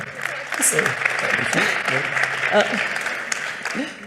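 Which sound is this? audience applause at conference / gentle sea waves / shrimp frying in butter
audience applause at conference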